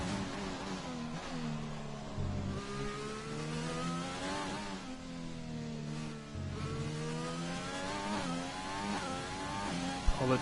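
Onboard McLaren race car engine in a racing video game at Silverstone on soft compound tyres, a continuous loud, rising and falling engine whine with gear-change dips and a faint voice beneath.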